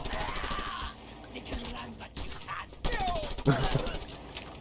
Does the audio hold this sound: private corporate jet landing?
no